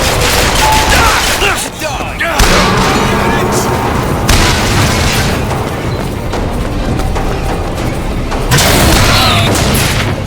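Rocket explosions and gunfire in the Bioshock Infinite video game, with dense, loud booms and blasts coming in heavy bursts across the whole stretch, mixed with game effects and a little voice.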